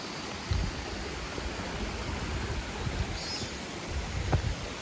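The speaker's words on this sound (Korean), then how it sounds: "저쪽은 정말 폭포가 좀 그럴싸하죠. 적어도 1단, 2단 요 두개 폭포는 쫙 위에서부터 내려오네요." A mountain valley stream with a tiered waterfall at Wonhyosa temple on Dobongsan, swollen after recent rain, gives a steady broadband rush of flowing water throughout, with a few faint knocks. No one speaks.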